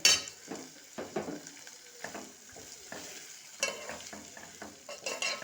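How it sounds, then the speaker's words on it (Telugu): A spoon stirs capsicum through tomato curry in a frying pan, with a steady soft sizzle under repeated close scraping strokes and light clinks against the pan, and no voices. "ఇలా మంచిగా కలుపుకుంటూనే ఉండాలన్నమాట"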